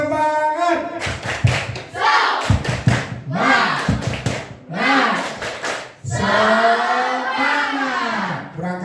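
Schoolchildren performing the 'tepuk semangat' chant, with bursts of rhythmic group clapping between loud sung and shouted voices, close and energetic in a classroom.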